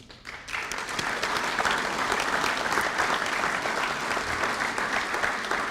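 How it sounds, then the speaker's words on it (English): A big round of applause for Korean War veterans at a 64th anniversary ceremony rises quickly and holds as dense, sustained clapping from a large audience, with no talk over it. "So to our heroes, to our ambassadors for peace, please, ladies and gentlemen, to give a big round of applause."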